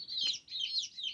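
Chickens, including orange roosters, cluck and chatter in a quick, high-pitched flurry on a farm, close by and fairly soft, with no talking.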